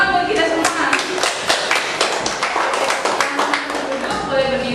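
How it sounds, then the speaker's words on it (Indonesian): A small group claps hands together at a group counseling session, giving loose, somewhat uneven claps close by, with voices and chatter mixed in among them. "tepuk tangan buat kita semua"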